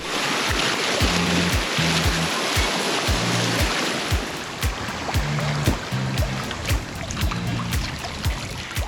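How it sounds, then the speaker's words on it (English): River rapids in the Great Smoky Mountains rush and churn around people tubing, a loud, steady wash of water close by with splashes and a low droning hum underneath. "To the rapids."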